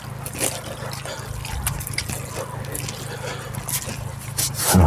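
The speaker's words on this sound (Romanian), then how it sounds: "Mai punem puțin apă, facem un pic mai moale" Water poured onto mud around the roots of a newly planted fruit tree gives wet squishing and trickling sounds, close and soft, with low background rumble.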